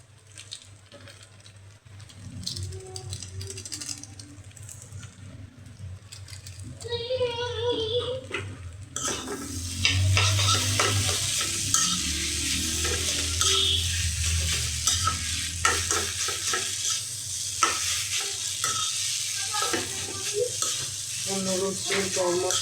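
Noodles with their spice mix are stirred and fried in a pan, giving a continuous close sizzle with scraping stir strokes that grows louder and busier midway.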